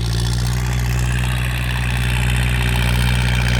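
A Kubota L5018SP tractor's diesel engine runs steadily at idle, loud and close, with a constant low throbbing drone and no talking.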